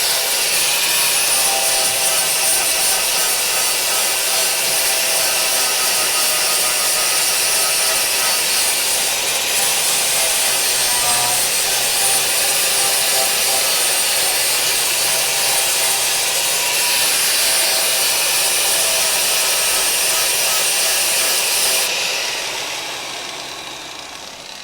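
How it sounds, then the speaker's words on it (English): A flap disc grinds a weld smooth on the body of a Crew Cab Charger under restoration, a continuous loud abrasive rasp that holds steady for over twenty seconds before tapering off at the end. "we're going to flap disc this smooth."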